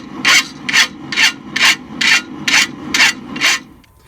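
A hand file rasps along the clip point of a hand-forged knife blade, cutting a chamfer in eight evenly spaced, close strokes with a rhythmic back-and-forth scraping and brief gaps between each pass.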